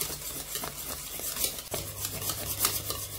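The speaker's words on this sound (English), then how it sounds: "So on a moderate heat, just keep whisking." Semolina pudding with about 30 grams of butter is whisked in a pot over moderate heat, making a quick rhythmic scraping and swishing with light metallic clinks, close and steady under a faint hum.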